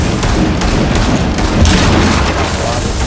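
Skunk grenades burst in Rainbow Six Siege, a loud dense wash of booms and hissing gunfire-like blasts that continues throughout without a break.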